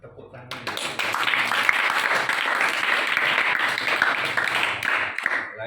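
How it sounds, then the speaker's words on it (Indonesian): Applause from a school audience at an arts and culture visit, starting abruptly and holding as a dense, steady wash of clapping for several seconds, fairly loud and close. "Tepuk tangan."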